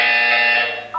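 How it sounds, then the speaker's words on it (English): A buzzer from the Portal 2 video game sounds as one loud, steady electronic drone that holds for about a second, then cuts off into a brief tonal blip at the end. "When you hear the buzzer, look down at the floor"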